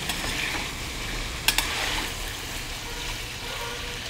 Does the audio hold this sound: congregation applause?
no